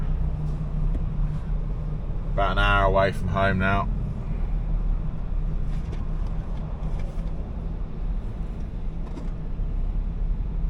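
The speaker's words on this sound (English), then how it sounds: "we've hit traffic. M25, pretty much the norm. Stop start." Steady low road rumble fills a car interior creeping through stop-start traffic on the M25 motorway, with someone speaking briefly over the constant hum.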